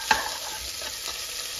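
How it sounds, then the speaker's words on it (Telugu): A spoon stirs paaya soup in a pan, a brief scrape near the start followed by a soft steady sizzle and bubbling, close and quiet with no talking. "చక్కగా కలుపుకోవాలి"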